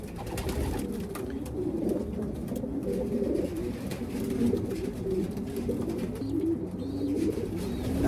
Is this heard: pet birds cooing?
yes